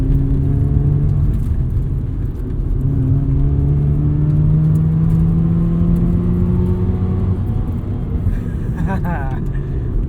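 A 1990 FC Mazda RX-7 on budget coilovers drives at a steady pace. Its engine gives a loud, continuous drone whose pitch slides up and down through the gears. Someone speaks over it, and a short whirring rattle comes near the end.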